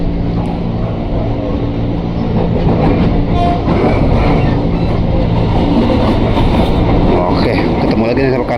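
A KRL commuter train runs on the Jakarta–Tangerang Selatan line near Palmerah, with a loud, steady rumbling roar and rail clatter throughout and voices faintly mixed in.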